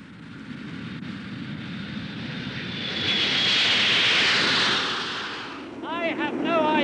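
Aircraft engines roar on a weightless training flight, a steady drone swelling to a louder rush midway as the plane picks up speed, then easing back, with a voice briefly audible near the end.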